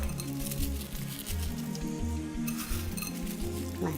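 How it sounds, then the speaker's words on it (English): Fried onions are scattered over a pot of chicken breyani, giving a soft, steady patter and faint sizzle that runs close and continuous for a few seconds. "And then I will take some fried onions and sprinkle"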